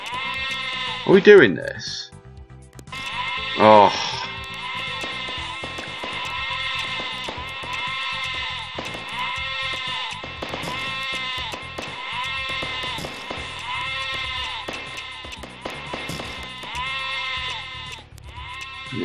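Sheep bleat in the video game Lemmings Paintball, two wavering cries early on over steady electronic game music, while a person talks over the gameplay.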